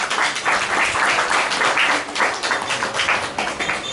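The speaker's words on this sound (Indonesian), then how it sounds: "kita berikan tepuk tangan untuk beliau" A seminar audience claps loudly for an Umrah education speaker, a dense, steady round of applause that fills the space throughout, with faint voices mixed in.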